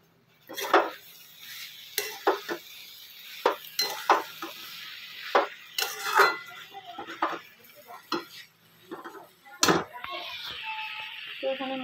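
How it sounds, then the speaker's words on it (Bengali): Banana flower (mocha) cooking in a pan in a home kitchen, with a utensil scraping and clinking against the metal in irregular bursts amid faint sizzling, close and fairly quiet. "তো এখানে মোচা রান্না হচ্ছে"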